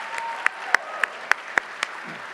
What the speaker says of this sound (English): one more round of applause for the Senator